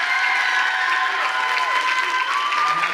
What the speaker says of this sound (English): But let's give a round of applause for these folks who have helped out this year.